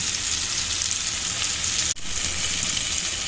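Tomatoes dropped into a hot pan for a hill-vegetable fry, giving a steady, loud sizzle and crackle with one short break near the middle, no voices.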